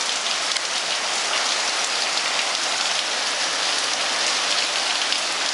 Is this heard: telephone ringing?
no